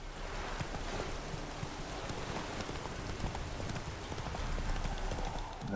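Rain falls at night in the video game The Witcher 3, a steady broadband hiss with a horse's hooves clopping rhythmically over it and no talk.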